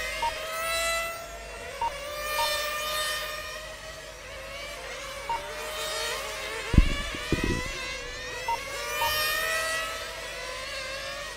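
Nitro-powered 1/8-scale GT8 RC cars at a world championship qualifying race whine around the track, their high engine notes rising and falling as they pass, with a few sharp clatters midway.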